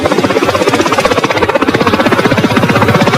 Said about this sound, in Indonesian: Joker dan Raptorman pun berangkat menggunakan helikopter